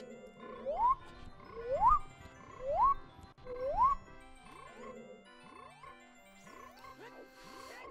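Frog croaks in a video game, a string of rising whooping calls repeated at roughly one-second intervals, fairly close and clear, with fainter tonal game sounds around them.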